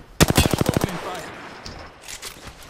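Rapid automatic gunfire from a weapon in Apex Legends, a burst of about a dozen sharp close shots in under a second, then quieter scattered game sounds and a few distant shots.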